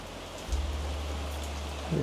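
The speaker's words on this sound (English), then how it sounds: "So we have a heavy rain that began last night." Heavy rain falling on a garden with tomato and pineapple plants, a steady soft hiss of drops close by with a low rumble beneath, no talking.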